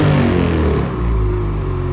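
A tuned Powderfreaks 862 snowmobile engine revs loudly, a rough mechanical drone that drops slightly in pitch and settles into a steady idle-like roar.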